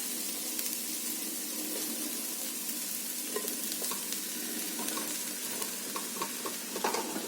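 Sliced peppers and onions fry in a pan for lecso, hissing and sizzling steadily at close range while a utensil stirs them with light scraping and clicking taps.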